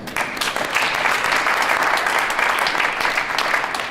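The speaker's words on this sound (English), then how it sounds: "Please give yourself a hand of applause." Audience applause at a street art exhibition against child slavery, a dense, steady wash of many hands clapping that stays loud and even throughout.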